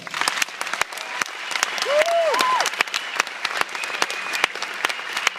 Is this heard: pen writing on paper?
no